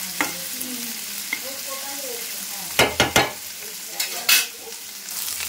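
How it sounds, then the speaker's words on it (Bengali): Ginger fries in a pan, giving a soft, steady sizzle broken by a few sharp scraping stirs and knocks of a utensil against the pan. "এর মধ্যে দিচ্ছি আদা। আমি এটাকে ভালো করে ভেজে দেবো।"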